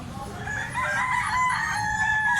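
A young gamecock stag crows at a busy Cebu cockfowl market, its rising, harmonic call ringing out close and loud for about two seconds over a dense bed of crowd murmur and other roosters.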